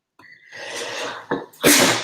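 A single loud, close sneeze with a sharp inhale leading into a bright, explosive burst.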